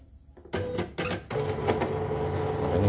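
An embroidery machine starts up with a few sharp clattering bursts, then keeps up a continuous rattling, grinding mechanical noise at close range, fairly quiet overall.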